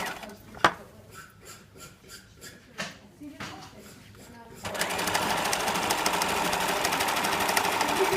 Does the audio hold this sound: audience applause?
no